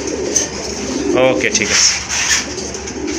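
A pigeon gives a short rolling coo among pigeons for sale, brief and close, with someone talking over a noisy background.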